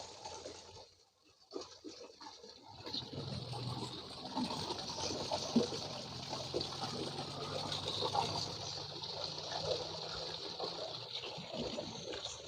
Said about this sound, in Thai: ตรงนี้ก็จะเป็นน้ำตก